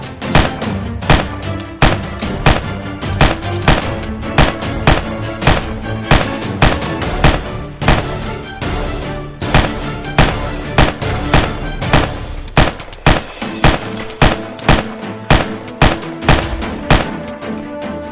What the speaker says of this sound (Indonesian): Jadi aku menembak mereka dengan Gatling.